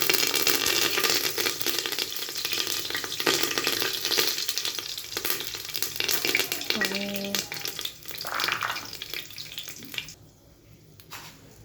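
Cardamom, cinnamon, cloves, bay leaves and curry leaves fry in hot oil for vegetable pulav, crackling and sizzling loudly and steadily up close, with a brief metallic clink before the hiss fades near the end.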